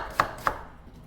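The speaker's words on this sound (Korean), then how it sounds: "양파 썰어줍니다" Two crisp knife chops on a cutting board, slicing onion into thin strips while preparing vegetables for a Chinese dish, yangjangpi japchae; spaced about a quarter second apart, close and clear with no talk.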